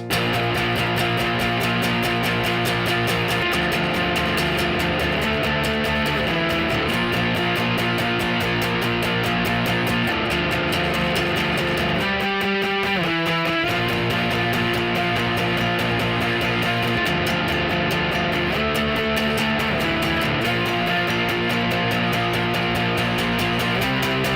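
Two electric guitars play together on a song, one strumming full chords while the other plays riffs, loud and continuous, with a brief break midway.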